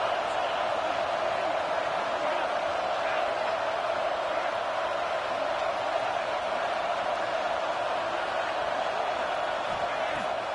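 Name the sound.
stadium crowd cheering in the video game Madden 22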